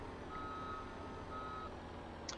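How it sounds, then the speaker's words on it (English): Steady, repeated reversing beeps from a sugar beet truck in the Farming Simulator 17 video game, sounding over a constant engine and game rumble, with no speech. "chasing the beet truck."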